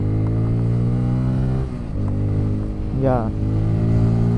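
Bajaj Pulsar N250 motorcycle engine pulling at high revs, a steady loud drone with rising pitch sweeps through gear shifts, heard close up from the rider's position with a brief spoken word.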